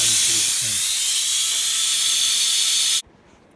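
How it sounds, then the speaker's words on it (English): Brake fluid is sucked out of the reservoir and drawn through a brake line into a tank, giving a loud, steady airy hiss that holds evenly for about three seconds and then cuts off sharply. "the reservoir fluid is being sucked right out, and it's all coming out through the brake line"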